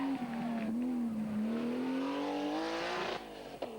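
A race car, either a BMW with an unsilenced exhaust or a Porsche 935 biturbo, climbs a twisty hill-climb course, its engine note rising and sustained nearby before cutting off with a short burst of tire noise.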